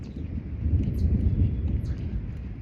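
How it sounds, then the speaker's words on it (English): Long thunder rolls through a forest on a trail during a wildfire, a low, steady rumble lasting the whole stretch and fading at the end, heard alone. "Thunder's been going for a good 20-30 seconds."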